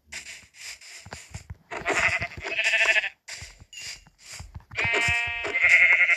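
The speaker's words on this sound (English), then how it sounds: "let's go get some sheep" Sheep in the mobile edition of Minecraft bleat in a run of short, close, clear game-sound cries, several in quick succession with brief gaps, loud and alone with no talking.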